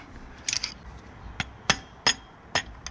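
Several sharp metallic taps ring out as a screwdriver knocks a rear tyre onto a 90cc pit bike wheel, about five irregular strikes close by in an otherwise quiet space.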